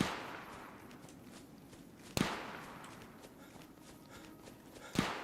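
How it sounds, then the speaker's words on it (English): Two sharp gunshots from a video game raiders' firefight sound in the distance, spaced about three seconds apart, over a low ambient background. "Ooh, they're shooting at somebody."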